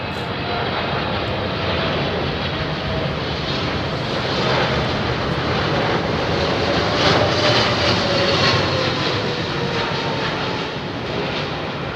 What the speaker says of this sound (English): the rest of it is literally a wall of air blasted out of the engines, which decelerates the aircraft